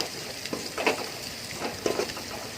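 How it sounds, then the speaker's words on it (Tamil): Small onions frying in sesame oil, a faint crackling sizzle punctuated by a few soft stirring scrapes. "அந்த நல்லெண்ணெயில் அதெல்லாம் போடும்போது"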